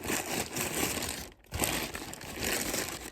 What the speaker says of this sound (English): I'll just take a plastic bag